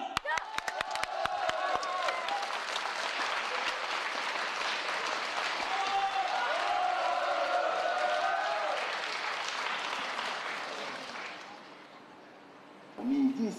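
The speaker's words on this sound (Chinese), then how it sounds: "大家掌声欢迎。" A theatre audience breaks into loud, sustained applause for performers about to do Chinese cross talk, dense clapping filling the room before thinning and fading near the end, where a brief voice cuts in.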